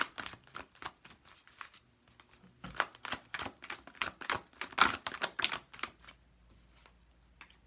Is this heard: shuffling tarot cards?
yes